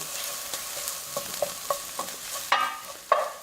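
Onions frying in a pan toward golden brown, with a steady sizzle broken by several distinct spoon scrapes and stirring knocks that grow louder near the end; no talking.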